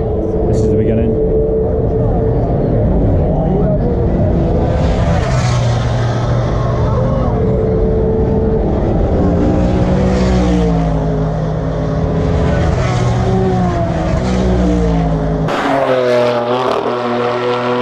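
Race cars at the start of the Nürburgring 24 hour race, with a loud, continuous engine roar whose pitch rises and falls as cars pass, and a voice speaking over it.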